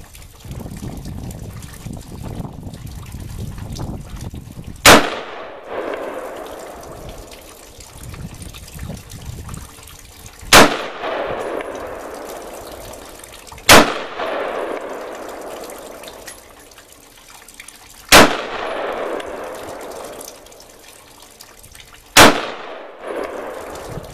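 Gunfire at an outdoor shooting range: five sharp, loud rifle shots spaced several seconds apart, each followed by a long rolling echo fading into the open air, with no talking between them.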